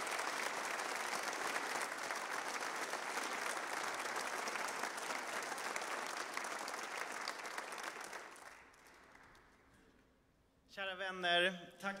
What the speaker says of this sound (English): So let's welcome Aaron with a warm applause.